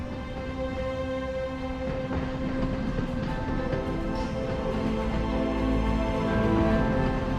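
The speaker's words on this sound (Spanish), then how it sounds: "Solo el sonido metálico de las ruedas rompe la calma de una planicie que parece no tener fin." Steady metallic rumble and drone of train wheels rolling along the FCAB Antofagasta–Bolivia railway across a high arid plain, continuous and fairly loud with sustained tonal ringing throughout, no voices.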